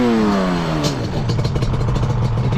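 A Yamaha Banshee 350 ATV engine revs loudly and close by, its pitch sweeping down and then settling into a steady, buzzing idle.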